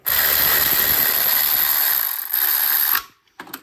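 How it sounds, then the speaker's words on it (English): A hand ratchet tightening the timing chain guide bolts on a Mini Cooper S N14 engine, giving a loud, close, continuous rapid clicking that pauses briefly, resumes, then stops with a couple of final clicks. "And then all you do is tighten them up with just a ratchet"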